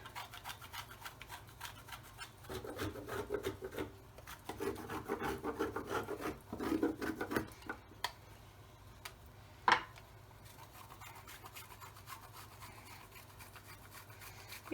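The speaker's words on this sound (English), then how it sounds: "if you've got any chocolate left over at the end, you can grate some on the top" Chocolate grated over iced cupcakes gives faint, close rasping scrapes in a few short bursts, with a small knock near the end and no talking.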